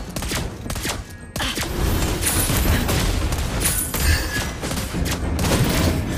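Rapid video game gunfire, dense volleys of shots and heavy booms crackling almost nonstop, loud and close, with a brief lull near the start before the barrage resumes.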